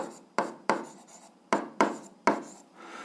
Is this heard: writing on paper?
yes